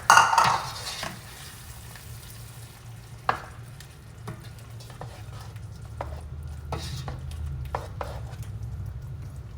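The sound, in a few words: stirring homemade chipotle sauce into shrimp in a pan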